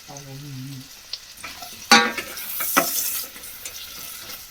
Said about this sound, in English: Let's get them onions sautéing and soften up for the next steps